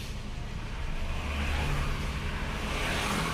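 A Toyota Kijang 5K engine with a carburetor tuned lean cranks and is revved, a steady loud mechanical roar that holds throughout with no talking.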